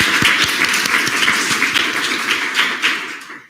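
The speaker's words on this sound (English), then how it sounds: "Quick clap." Students at a university student government senate meeting give a quick round of applause, a short burst of close clapping with a few distinct taps that fades out abruptly.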